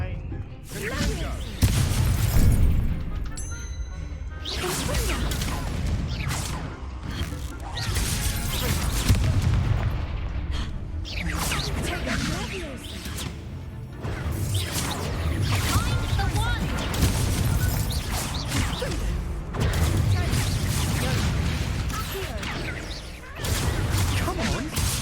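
Confringo blasting spells in Hogwarts Legacy go off as repeated booming explosions and crashing impacts in a loud, busy fight, with talk mixed in throughout.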